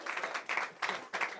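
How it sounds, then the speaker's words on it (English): A single person claps a few times at a campaign event, four soft evenly spaced claps heard at a distance, fairly faint. "At least I get a clap from you"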